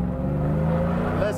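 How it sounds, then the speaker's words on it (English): A 1949 GMC restomod pickup truck's exhaust while driving, a steady low engine drone heard from inside the cab, with a voice speaking over it. "Listen to that exhaust."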